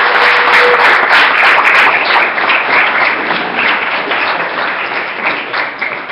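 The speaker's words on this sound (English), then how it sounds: "a round of applause for Bunny for a great job" A crowd applauds at the close of a talk, a loud, thick roar of clapping that carries on steadily for several seconds and fades a little toward the end.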